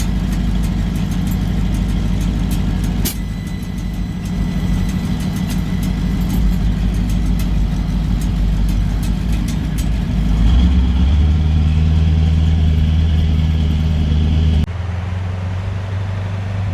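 A medium duty truck with a CAT 3208T turbo diesel engine drives along, its deep low engine drone steady and loud, then the note shifts and rises as it pulls harder toward the end.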